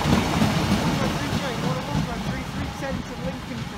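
A Class 153 diesel railcar rolls past the Hykeham level crossing, a loud, steady rumble of wheels and engine filling the whole stretch, with faint voices in the background.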